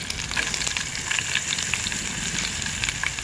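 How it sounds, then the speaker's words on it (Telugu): Five or six pieces of green chilli and a large, thinly sliced onion fry in tempering oil for a drumstick-leaf moong dal curry, giving a dense, steady crackling sizzle with no voices. "పోపు అనేది పచ్చిమిర్చి ముక్కలు 5-6 వేసుకున్నాను."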